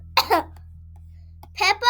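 A voice imitates adults coughing in a children's story read aloud: a couple of short, harsh coughs, a brief pause, then two more.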